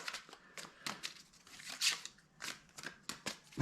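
Tarot cards being shuffled by hand in a quiet room, a series of soft riffling, papery bursts in an uneven rhythm, close and gentle.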